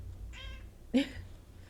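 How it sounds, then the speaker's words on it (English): A cat meows once, a short tonal call followed by a sharper, louder cry, close to the microphone over a low background hum. "I have an emotional support cat now"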